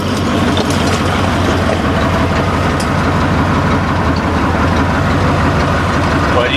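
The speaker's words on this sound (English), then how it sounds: "you can tell it runs a lot smoother with that new fuel filter in there" A Ford truck engine idles steadily after a fuel line and fuel filter replacement, a continuous close rumble with even low pulsing that holds throughout, no one talking.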